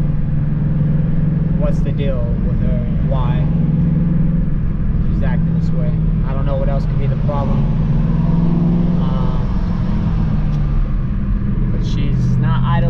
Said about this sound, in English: she's not idling right, and the car wants to stall out, and the exhaust is revving high